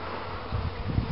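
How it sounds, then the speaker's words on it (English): Bees and flies buzz around a flowering Chinese Photinia shrub in spring, a close, steady insect hum with low wingbeat swells and no talk. "It attracts bees and flies."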